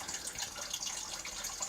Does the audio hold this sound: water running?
yes